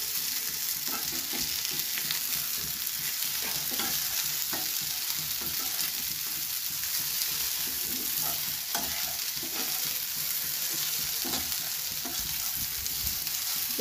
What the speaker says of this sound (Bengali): সয়াবিনটা ভালো করে একটু লাল লাল করে ভাজতে হবে।